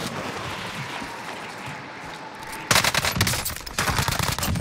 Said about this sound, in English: shoot him with an EM2